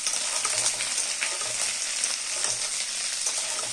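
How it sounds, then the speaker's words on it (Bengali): Fried paneer being stirred in a hot pan, a loud continuous sizzle of frying oil with repeated soft scraping strokes of the utensil running throughout, and no talk. "একটু নেড়ে দিলাম।"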